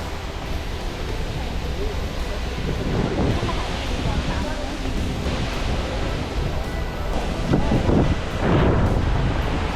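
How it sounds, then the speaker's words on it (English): Steady roaring rush of an Icelandic waterfall heard from just behind the falls, broadband and constant, with gusty wind buffeting close to the microphone throughout. "I came down here just behind the waterfall as I'm getting soaked"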